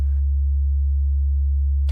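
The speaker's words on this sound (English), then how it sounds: "So if we just go in here, we'll start with a sine wave" A steady pure sine tone from an Erica Synths Graphic VCO synthesizer module hums low and constant, with brief bursts of noise at the very start and end.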